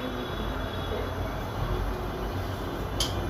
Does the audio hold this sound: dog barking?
no